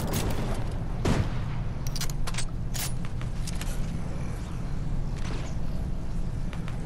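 Gunfire in a shooting video game: scattered sharp bursts and rapid shots over a constant rumbling background, some close and loud, others more distant, with no talk.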